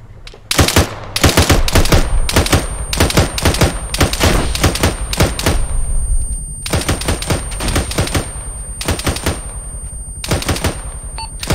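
Heavy gunfire in a military video game, long bursts of automatic fire and clustered shots striking close by, loud and sustained with brief pauses between volleys, no voices.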